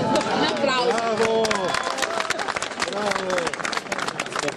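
A crowd at an outdoor political rally in an Italian town applauds steadily. Loud overlapping voices and cheering sit on top of the clapping throughout.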